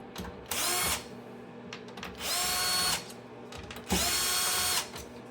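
A power screwdriver takes out the fan screws on a PS5 Pro console, with three loud whirring bursts of about a second each and short quiet gaps between them, heard close up.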